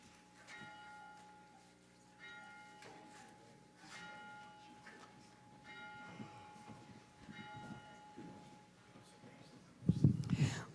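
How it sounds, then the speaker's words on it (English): A church bell rung at the start of a Sunday service in a Unity congregation, with several spaced, ringing strikes that sustain and overlap, moderately loud in a reverberant room, with a louder clang near the end. "We begin our service with the ringing of the bell and the lighting of the Christ candle."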